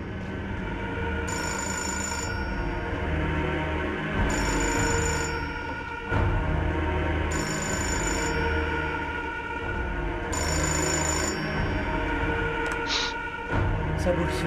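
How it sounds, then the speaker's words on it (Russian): In the video game Fahrenheit, a telephone rings in four regular bursts of bell-like trilling, each about a second long, over a steady low background hum. "Нужно ответить на телефонный звонок."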